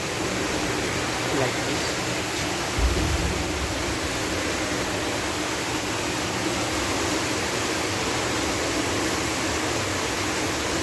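Water rushing steadily through a hydraulic flume driven by pumps, a constant broadband wash with a faint high whine and a short low thump early on; a voice speaks briefly.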